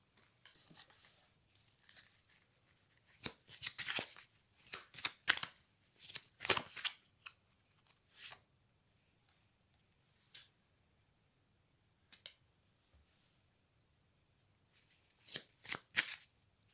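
Oracle cards being shuffled by hand in bursts of crisp riffling and flapping, with pauses between, close and fairly loud against a quiet room.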